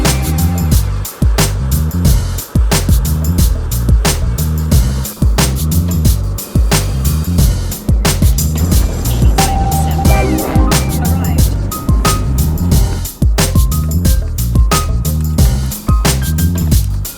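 A GMC 4x4 truck drives on a test drive after a transmission rebuild, its engine and road noise loud and continuous inside the cab, with rhythmic thumps and bumps recurring along the way.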